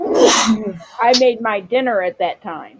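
A single sharp sneeze bursts out at the start, loud and close, followed by a person talking in a normal voice.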